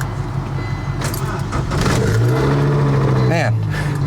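An old carbureted Ford that had sat unused for six weeks cranks and catches, settling into a rough, loud idle close by, with keys jangling and someone talking before it fires.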